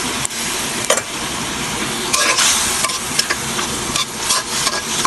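Tengra fish sizzling in a pan of oil with chili powder, green chilies and salt, a steady loud fry with stirring scrapes throughout, close by.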